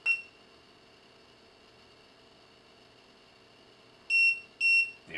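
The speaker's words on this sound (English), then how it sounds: "There's your beep." Electronic beeps from a TST 507 tire pressure monitoring system display during sensor programming: one short beep at the start, then two sharp high beeps near the end over a faint steady hum.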